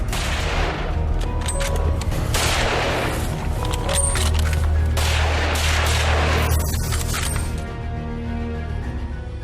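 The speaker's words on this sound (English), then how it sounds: "how do you explain 3 people blasting away at an animal at the same time?" Several hunters fire on an animal in a canned hunting enclosure, with a cluster of overlapping gunshots and booming reports arriving in quick irregular bursts over a rumbling, fairly distant background.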